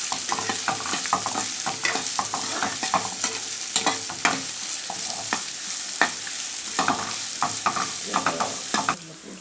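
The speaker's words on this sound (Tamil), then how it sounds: "வெங்காயம் நல்லா வதக்க விட்டுடலாம்." Chopped small sambar onions sautéing in a hot pan for Tamil garlic kulambu, a steady close sizzle with frequent scraping and stirring clicks throughout, no talking.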